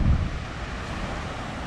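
Steady broadband rush of a waterfall, loud and continuous, with a roaring low-end boom at the start and no talk.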